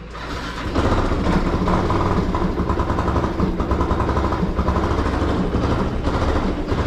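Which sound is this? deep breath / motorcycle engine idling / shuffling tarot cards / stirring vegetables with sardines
motorcycle engine idling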